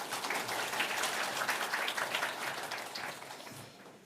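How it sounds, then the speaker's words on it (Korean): A church congregation at a Sunday service claps to welcome a visiting pastor, a dense round of applause that holds steady and then tapers off toward the end. "환영하는 의미로 박수로 맞이하겠습니다"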